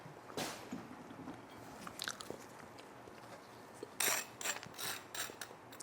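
Crispy toasted bread from a Cuisinart TOA-70 air fryer toaster oven is bitten and chewed, giving a sharp crunch near the start and a further run of crunchy bites after a pause, close and fairly quiet with no talk.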